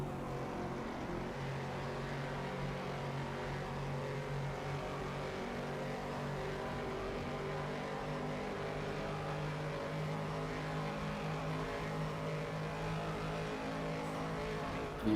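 A Bizzarini race car engine in the GTC Legends sim racing game, on a qualifying lap, gives a steady, continuous engine drone that holds an even level throughout.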